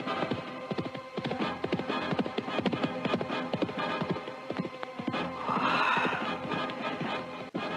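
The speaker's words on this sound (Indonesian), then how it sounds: "seekor kuda yang ditunggangi oleh seorang laki-laki muda dan gagah berderap membelah kesunyian hutan" A horse ridden by a young man gallops through a quiet forest, with rhythmic clip-clop hoofbeats close by and a whinny partway through, steady and fairly loud under a low background hum.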